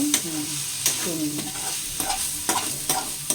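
A spoon stirs grated coconut through amaranth greens in a pan, giving rhythmic scraping strokes over a soft, steady sizzle.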